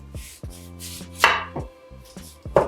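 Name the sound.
knife cutting a disc from taro root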